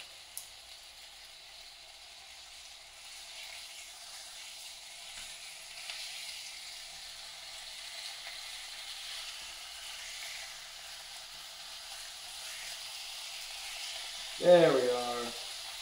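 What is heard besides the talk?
bacon frying in a pan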